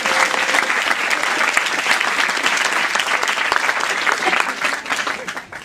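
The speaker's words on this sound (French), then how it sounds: "On peut applaudir Michel." Audience applause for Michel at a French stand-up comedy show: dense, loud clapping from a live crowd, steady throughout and easing slightly at the very end, with no talk over it.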